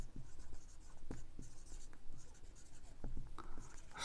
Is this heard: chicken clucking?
no